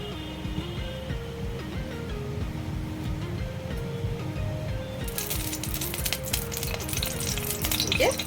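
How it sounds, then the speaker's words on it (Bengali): Marinated chicken frying lightly in a wok, a steady dense sizzle running throughout and growing brighter and louder in the second half as pieces hit the hot oil, with a few metallic clinks near the end. "আধা ঘন্টা আগে যে চিকেনটা আমি ম্যারিনেট করে দিয়েছিলাম সেটা আমি একটু ফ্রাই করে নেব হালকা করে"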